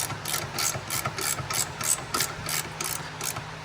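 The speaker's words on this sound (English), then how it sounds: "And I found the ratchet. See how that works?" Rapid, even ratchet clicks repeat at close range, a steady train of sharp metallic pawl ticks with no voices.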